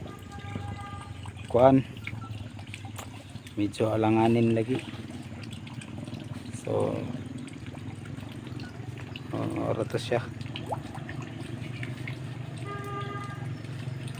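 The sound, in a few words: water pouring into a duck pond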